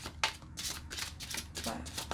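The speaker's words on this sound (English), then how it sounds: "This deck's a hard one to shuffle like this." A tarot card deck is shuffled by hand in bursts of riffling, papery flutters repeating about every half second, close and fairly loud.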